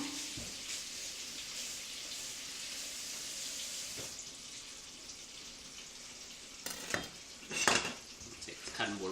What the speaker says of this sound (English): I'm going to clean my knife off for a real minute